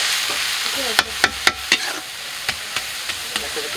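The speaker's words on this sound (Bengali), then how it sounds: "দেখো শাকটা ভাজা হয়ে গেছে" Radish greens fry in a pan while a utensil stirs them in a series of sharp scraping knocks over a constant soft sizzle, close up and with no one talking.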